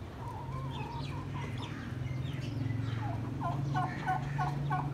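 Chickens cluck close by around a backyard coop, with repeated short clucks and throaty calls over a low murmuring background, and a run of rhythmic clucks near the end.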